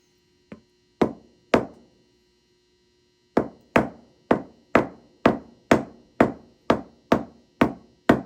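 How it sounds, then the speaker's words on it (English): A socket is lightly tapped to seat a fork seal on a 1972 Yamaha DT-2 Enduro, giving three sharp metallic taps, a pause, then a steady run of about a dozen evenly spaced knocks, close and clear with no talking. "Just lightly tap it in until it seats on the bottom of the"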